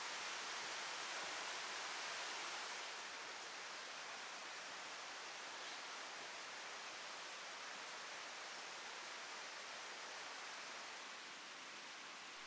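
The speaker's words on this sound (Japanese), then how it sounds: "沢の音が聞こえ始める" A mountain stream rushes steadily through a forest on Mount Hoko in northern Miyazaki, a dense, unbroken wash of flowing water at constant moderate loudness with no voices.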